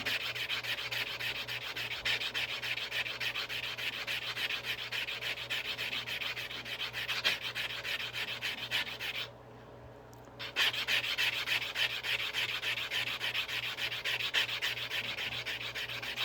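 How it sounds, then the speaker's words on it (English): Steady close-up rasping of a nail file scraping the rough edge of a state quarter coin, continuous strokes with a brief pause midway before resuming. "Hit it with a good old-fashioned nail file."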